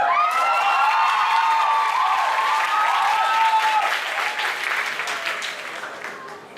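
School audience applauding a student performance, a dense wash of clapping mixed with cheers and whoops from a crowd of children, loud at the start and gradually thinning toward the end.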